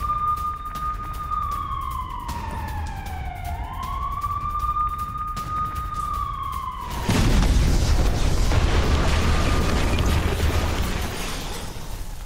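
A wailing siren rises and falls, then a heavy rumbling explosion in northern Gaza roars in and keeps booming loudly under the siren's fading wail.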